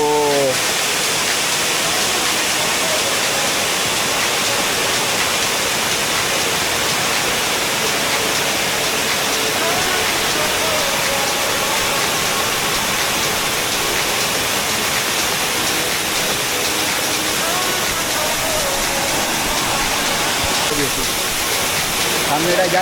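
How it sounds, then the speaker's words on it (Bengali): Dabarkhola Waterfall on a road trip from Bhubaneswar roars loudly and steadily, a dense, unbroken rush of falling water close at hand, with voices faintly heard beneath it. "তো গাইস আমরা পৌঁছে গেছি ডাবরখোল ওয়াটারফল"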